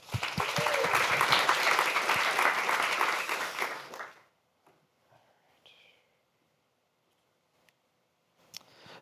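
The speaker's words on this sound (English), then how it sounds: "One more round of applause." Audience applause at a lightning-talk event on climate adaptation, a dense burst of clapping for about four seconds that fades out, followed by near silence with a few faint ticks.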